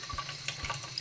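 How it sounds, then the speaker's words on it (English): Water from a shower splashes and trickles over a GETAC V100 rugged convertible tablet during a water test, a short patter of running water with small drips and splashes, no voices. "water test with the GETAC V100 convertible tablet, test number 2"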